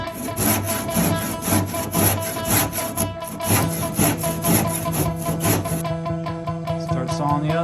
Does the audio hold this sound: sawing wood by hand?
yes